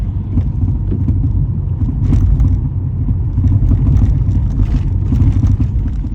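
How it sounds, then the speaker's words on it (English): A car engine drones while driving, a steady low rumble with road noise inside the cabin and slight swells in power, loud and close with no talk. "I'm just driving around in my car, getting ready to go home"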